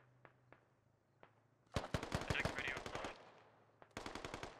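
Automatic gunfire rattles in rapid bursts during a firefight in the video game Squad Ops, with scattered single shots before a long burst and a second burst near the end.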